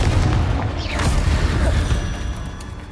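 A Confringo explosion spell from the video game Hogwarts Legacy goes off as a booming, rumbling blast with mechanical creaks and a sweeping whoosh, loud and sustained, with no talk over it.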